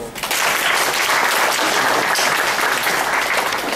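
A crowd gives steady, dense applause at a Buddhist Dhamma talk. The clapping is loud and sustained from just after the start to the end, with no voices over it.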